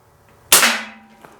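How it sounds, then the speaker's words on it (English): A single sharp crack from a Sig Sauer ASP Super Target .177 pellet pistol fires close by, with a short decaying ring after it and a faint tick of the pellet hitting a target a moment later. "I'm just going to shoot just under the bullseye and see where we hit."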